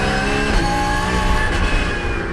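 Porsche race cars, including the Swiss Itris Racing entries of Winkler and Pfister, run nose to tail at the Lédenon circuit, with a steady high engine howl that sits close and loud and shifts slightly as they pass.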